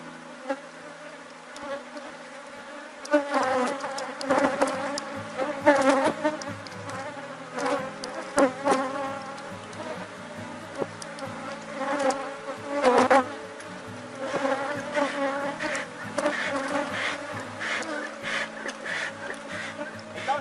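Honeybees buzz densely around an opened hive during a morning swarm division after rain, a continuous near hum with swelling and fading bursts as bees fly close.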